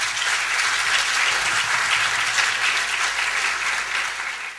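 Warm, sustained applause from an audience sending off Professor Santander after a talk on mathematical curiosities, thick and even throughout with a slight taper at the end.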